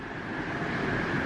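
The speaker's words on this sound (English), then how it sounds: "That's the sound of rain on our new roof." Heavy rain pours steadily onto a newly installed porch roof in Florida, making a dense, continuous hiss and rush that stays loud and even throughout, with no voices.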